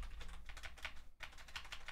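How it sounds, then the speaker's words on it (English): Rapid keyboard typing during a Warcraft game session, a quick run of clicking keystrokes with a brief pause midway, close and fairly steady. "I was typing in Russian."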